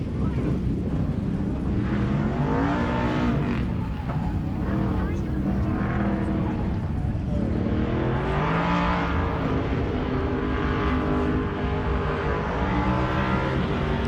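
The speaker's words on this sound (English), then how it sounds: "listen to him wind that thing out. Speedway Motors Camaro hard on the throttle as he goes through 3 and 4 into the chicane" A Speedway Motors Camaro race car revs hard on throttle through turns into a chicane on a mountain course, its loud engine roaring and winding up continuously while an announcer talks over it.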